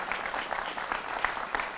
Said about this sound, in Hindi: तो जोरदार तालियों से सब मेहमानों का स्वागत करिए